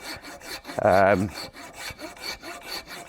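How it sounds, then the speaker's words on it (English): A hand saw cuts through wood at an outdoor firewood-processing site, with rhythmic back-and-forth strokes, close and fairly loud. A brief tonal squeal rises over one stroke, and no talk can be heard. "I've used these saws for basically everything we're doing here."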